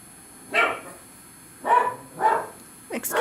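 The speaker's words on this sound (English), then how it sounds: "Excuse my dog." A dog gives several short barks indoors at a quiet craft table, one bark, a pause, then two more in quick succession and a final yip, fairly close.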